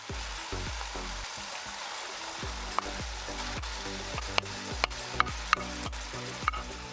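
Beef liver sizzling in a pan with steady frying hiss, interrupted by repeated scraping and clacking strokes of a utensil stirring it.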